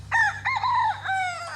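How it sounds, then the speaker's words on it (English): A rooster crows loudly and close by, a long drawn-out call with a couple of clucks from backyard chickens, no voices over it. "Yes, we love our chickens."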